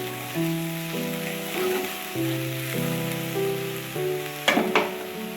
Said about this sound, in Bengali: একটু নাড়িয়ে চাড়িয়ে নিচ্ছি